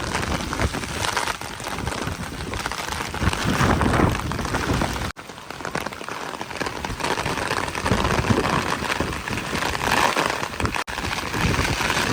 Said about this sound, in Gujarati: અત્યારે જો પવન સાથે એકદમ વરસાદ ચાલુ થઈ ગયો છે